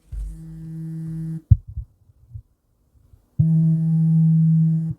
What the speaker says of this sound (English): Vibration test.